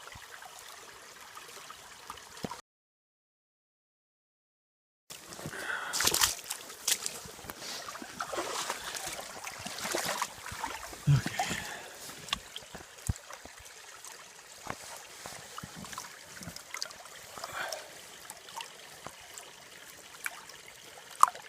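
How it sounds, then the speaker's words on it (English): Water washes and sloshes in a gold pan held nearly level while panning for gold in Alaska, a soft repeated swishing and trickling that stops briefly, then resumes with small splashes and gritty rattles, no voice heard. "You want to keep it tipped almost level and let the water wash the light stuff out."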